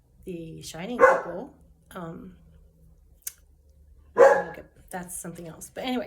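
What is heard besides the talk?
dog barking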